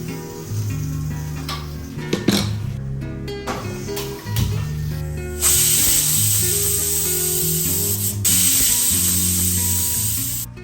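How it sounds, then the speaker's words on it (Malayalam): Partway through, a kitchen pressure cooker holding an egg curry mixture and water lets out a loud, sustained hissing steam whistle, close by. Before that, quieter tonal background music and small kitchen noises play. "ഒന്ന് കുക്കറിലിട്ട് ഒരു രണ്ട് വിസിൽ കളയട്ടെ"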